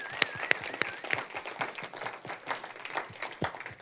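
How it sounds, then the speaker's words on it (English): Audience at a bioethics lecture applauds a speaker, a lively but thinner round of clapping with a few sharp, distinct claps near the start. "I would invite you all to join me in a round of applause for Dr. Smith"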